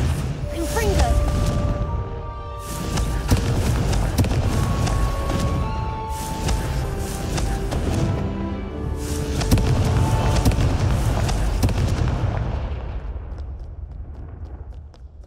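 Repeated Confringo fire-spell explosions in a Harry Potter video game, loud booming blasts and crackling bursts landing in quick succession over layered game music and effects, easing off toward the end.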